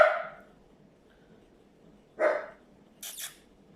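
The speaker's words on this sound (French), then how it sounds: "Il passe une voiture, il jappe." A small dog yaps in short bursts outdoors, a sharp bark followed by a couple of quick high yips, fairly close, with quiet background between them.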